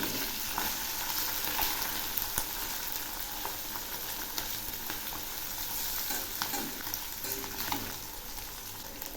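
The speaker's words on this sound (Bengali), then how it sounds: "তেল গরম হয়েছে, এবার আমি মাছগুলো ছেড়ে দিচ্ছি।" Steady, loud sizzling of batashi fish frying in hot mustard oil, with a few light scrapes and taps against the pan.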